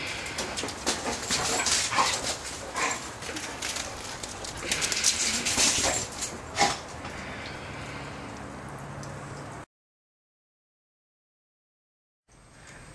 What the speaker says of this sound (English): This is one happy big dog.